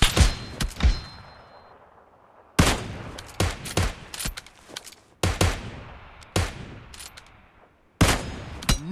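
Gunfire in the mobile shooter PUBG Lite, loud close bursts of rapid shots in several clusters separated by short pauses, with ringing tails and no voices.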